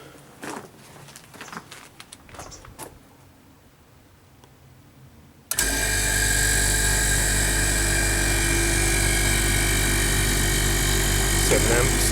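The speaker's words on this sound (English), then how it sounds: "The condenser fan's running, I can feel the air coming off of it." A freezer condenser fan starts partway through, after a quiet stretch of faint clicks and handling noise, then whirs loud and steady to the end.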